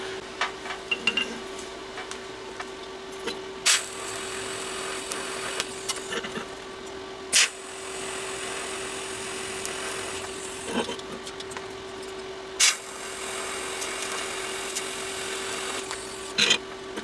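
Welding a part onto a DIY 6x48 belt grinder, a steady crackling buzz with a constant tone running throughout, broken by a few sharp clanks, close and moderately quiet.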